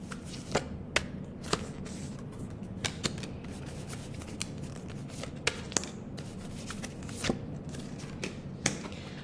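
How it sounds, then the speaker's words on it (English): Oracle cards shuffled repeatedly by hand, a steady papery riffle with sharp snaps and flicks scattered throughout, close and fairly quiet, no talking. "Hope you can hear that shuffle."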